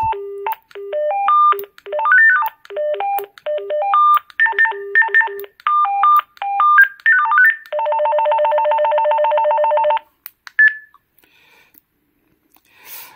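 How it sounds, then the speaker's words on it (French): Several different electronic ringtones from a children's walkie-talkie play one after another, loud and alone: choppy beeping melodies, then a long buzzing trill, followed by a few faint short chirps. "Il y a plusieurs sonneries différentes."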